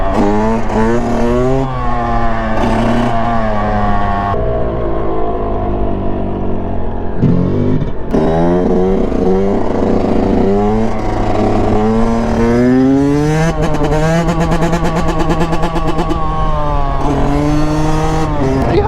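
A Yamaha YZ125 two-stroke dirt bike revs loudly and close by, its high buzzing engine rising and falling through repeated throttle blips and gear changes, then fading into a distant pass.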